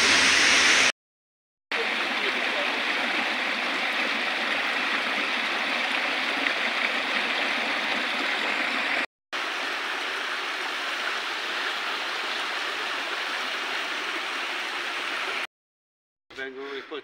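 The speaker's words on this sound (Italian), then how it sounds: "siamo arrivati con la cascata del Picchio, con Marini Fernando" The Cascata del Picchio waterfall near Nepi rushes in a steady, loud white-noise roar, broken by brief silent gaps in the recording, with a voice faintly heard at the end.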